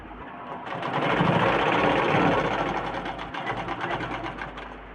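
A sewing machine stitches fabric in one continuous run, its rapid mechanical whirr rising in speed and then easing slightly, loud and close with no talking.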